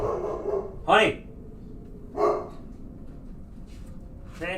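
A dog barks three times at separate intervals, each a short, fairly loud bark, with a murmuring voice and low background noise in between.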